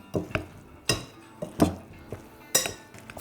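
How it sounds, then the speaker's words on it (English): Spicy breadcrumb mixture for smoked landmines stirred in a bowl: a series of sharp scrapes and clinks of utensil against the container, roughly rhythmic and close, no voices. "And then mix the whole thing up."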